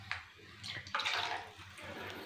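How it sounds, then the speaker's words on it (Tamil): A little water is poured into a cooking pot to rinse it out while making Kerala-style moru kuzhambu, a buttermilk curry. The result is a brief, soft splashing pour with a few gurgles, close by and quiet. "கொஞ்சம் தண்ணி ஊற்றி"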